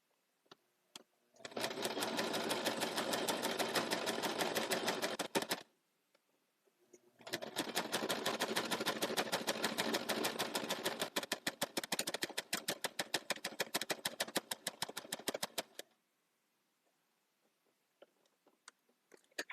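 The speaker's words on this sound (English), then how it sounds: "Sewing masks using some of my most amazing fabric." A sewing machine stitches fabric for shinobi masks in two long, steady runs of rapid needle clatter separated by a pause, then a few short, stuttering bursts and quiet stops, with no voices.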